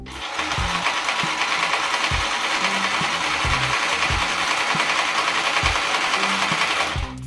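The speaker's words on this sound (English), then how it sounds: "So I have to bend it, sew it, and it has to be somewhere inside here." A sewing machine stitches ankara African print fabric for a lampshade, running loud and steady with a fast mechanical whir and rhythmic thumps of the needle, alone without talk.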